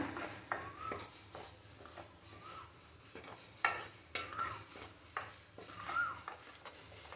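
Tomato paste is stirred around a pan with no water added, giving scraping and clinking spoon-on-metal strokes in an uneven rhythm close by, with a faint sizzle underneath.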